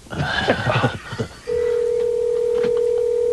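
A few quick tones and clicks, then a steady, loud telephone tone holds on alone.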